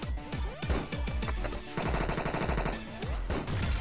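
A shotgun fires again and again in a video game, a quick series of loud, sharp blasts close up with short gaps between them, plus a denser burst in the middle.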